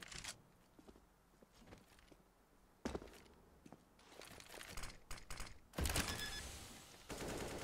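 An AK rifle is sprayed in bursts around a corner on the Nuke map in Counter-Strike, with rapid gunfire and footsteps building to loud clusters near the end.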